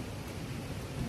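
Rain falls steadily outside during a storm, with a soft low thunder rumble underneath and a slightly stronger swell at the very end, fairly faint and without speech.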